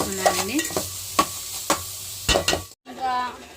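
A utensil scrapes and stirs through sizzling tempering spices in a pan, with several sharp strokes, a brief pause, then more frying.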